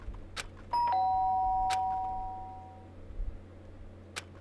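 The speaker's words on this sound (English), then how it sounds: "The sharp sound of the doorbell pierced my sleepy haze and pulled me back into the real world." Two-tone doorbell chime from the video game Danganronpa rings out clearly once, its bright tones ringing on and fading slowly, with faint clicks around it.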